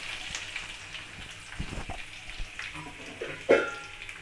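Green chillies and onions fry in hot oil for a vadacurry, a soft crackling sizzle broken by a few louder pops and splatters, one sharp spit standing out near the end.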